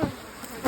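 Honeybees swarm around brood frames pulled from a hive while nucs are being made, giving a steady close droning buzz with a couple of louder passes as bees fly near.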